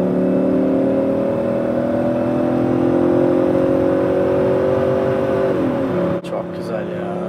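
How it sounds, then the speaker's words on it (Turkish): BMW E38 740iL with its V8 engine revving, a steady loud engine drone that shifts pitch near the end before a brief clunk, with voices briefly in the background. "8 silindirin sesi daha güzel"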